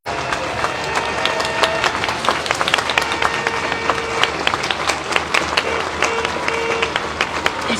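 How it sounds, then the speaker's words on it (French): Sustained crowd applause and clapping for sailor Charles Caudrelier as the Ultim trimarans leave the Naye lock at Saint-Malo, a dense, steady wash of many hands, loud and continuous throughout. "Ici, ce que vous voyez à l'écran, les applaudissements pour Charles Caudrelier."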